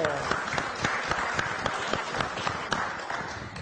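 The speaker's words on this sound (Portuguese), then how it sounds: "vamos aplaudir o nosso comentarista," A studio audience applauds a commentator on a Brazilian afternoon talk show, steady dense clapping filling the whole stretch at moderate loudness with a few sharper individual claps on top.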